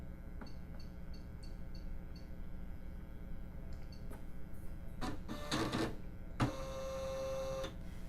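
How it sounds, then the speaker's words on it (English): A Husqvarna embroidery machine drives its hoop into position before stitching, giving off a run of mechanical whirs, clicks and short motor buzzes, with a steady electronic hum underneath. "The hoop is going to move around a little bit and then a new screen opens"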